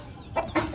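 An Aseel rooster gives two short, close clucks in quick succession, the second a little louder, with no voices over them.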